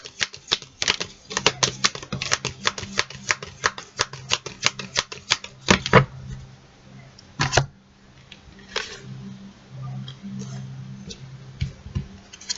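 Tarot cards being shuffled up close, a rapid run of crisp riffling flicks and slaps, then a few sparser card snaps with quiet pauses between them.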